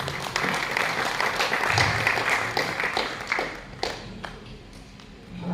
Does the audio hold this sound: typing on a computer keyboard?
no